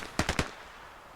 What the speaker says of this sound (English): I announced my presence by bursting one series of gunshots.